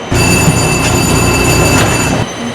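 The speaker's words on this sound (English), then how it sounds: "Now arriving on track 7 is a St. Petersburg Limited Southbound local service" A train arriving at a station in the Trainz railroad video game gives a loud, steady rumbling roll with high sustained wheel-squeal tones, carrying on for about two seconds before abruptly dropping to a quieter hum.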